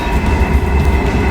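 An empty Norfolk Southern continuous welded rail work train rolls past close by, a loud, steady rumble of wheels on rail with a low, even roar and no voices.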